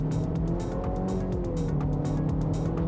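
A 2025 Nissan Murano pulling away gently in one-pedal driving, its engine giving a steady, smooth low hum with faint road and tire noise beneath, continuous and moderately near with no sharp revving.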